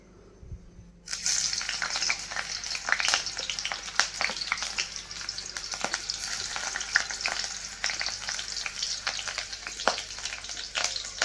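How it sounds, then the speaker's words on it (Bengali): Onion paste frying in oil for a mock prawn dish: a loud, continuous sizzle with crackles, begun by a sudden burst as the paste hits the pan. Occasional stirring scrapes come through, and no one speaks. "এখন খালি পেঁয়াজটা আমি একটু তেলে ভেজে নেব"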